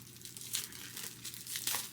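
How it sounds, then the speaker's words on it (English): A book mail package being opened by hand without scissors, with continuous close crinkling and tearing of packaging material in brief rustling bursts. "Let's try and unbox this without scissors"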